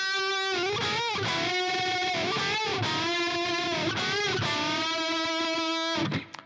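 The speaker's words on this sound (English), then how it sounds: "He does some unison bends," Electric guitar plays the fills, repeated unison bends with notes sliding up and wavering, bright distorted tone, played alone without talk.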